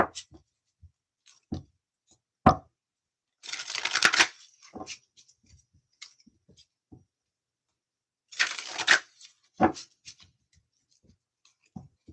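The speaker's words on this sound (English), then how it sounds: "I'm going to shuffle these cards really well." Tarot cards shuffled in two riffling bursts, close and crisp, with scattered taps and soft handling sounds between them and no talking.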